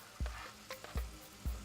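Chopped onions and garlic fry in melted butter in a pan over medium-low heat, a soft steady sizzle broken by a few dull thumps of stirring.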